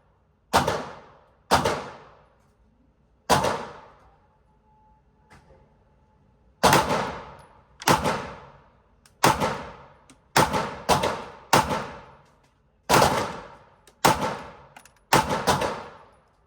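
Shield Arms Z8 extended magazine in a pistol firing defensive hollow-point ammunition: sharp, loud shots, first three spaced a second or more apart, then after a short pause a longer irregular string of quick shots, each with a short echoing tail.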